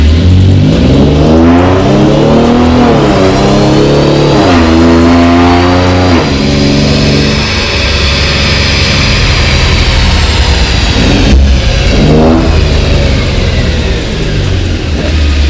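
An Infiniti Q50 with a tuned transmission revs loud and close, its engine note climbing in steps through the gears, then blipping up in sharp bursts as it downshifts while slowing.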